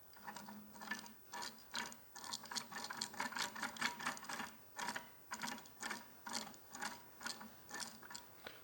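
A Massey Ferguson MF135 tractor steering box being turned up and down on the bench during restoration, giving a steady train of quiet mechanical clicks and gear ratcheting in rhythmic bursts, close up.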